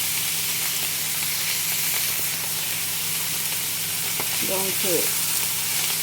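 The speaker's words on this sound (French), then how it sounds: "on laisse bien notre viande bien griller de chaque côté" Filet mignon marinated in olive oil sears in a hot pan, giving a loud, continuous sizzle and hiss throughout, with a brief spoken word at the start.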